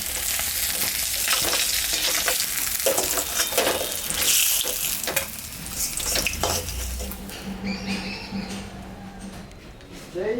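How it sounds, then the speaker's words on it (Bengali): Oil sizzles and crackles steadily as catla fish fries in a pan, with stirring noises and a voice speaking over the cooking. "মাছটা এখন আমি ভাজবো।"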